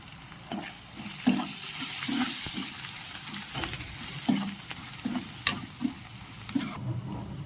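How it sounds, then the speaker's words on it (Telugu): Onions frying in oil with turmeric for a bitter gourd curry produce a soft, steady sizzle. A utensil stirs and scrapes the pan now and then, all close by and with no speech. "ఆనియన్ మంచిగా వేగింది."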